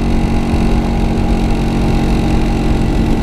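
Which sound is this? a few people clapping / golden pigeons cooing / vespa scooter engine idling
vespa scooter engine idling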